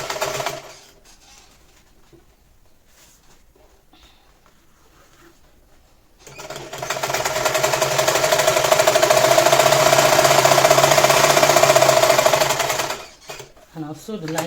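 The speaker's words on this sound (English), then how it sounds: "After that, I'm going to top stitch." A sewing machine top stitches a shoulder bag, running in one steady, loud, continuous stretch of about seven seconds before stopping; quieter handling noises come before and after the run.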